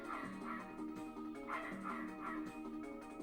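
A dog in a video game whimpers and yips in short, repeated high cries over a steady droning game ambience.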